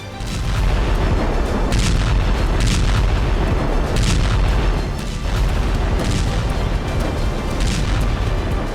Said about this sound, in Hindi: रूस जहां चाहता है वहीं धमाका होता है।